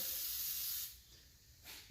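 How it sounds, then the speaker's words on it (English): Heavy duty oven and grill cleaner sprayed from an aerosol can onto a carbon-caked 5.3 LS 862 cylinder head, a steady close hiss for almost a second, then a pause and a second short burst. "The more you spray this on, the less spots you're gonna have to dig at"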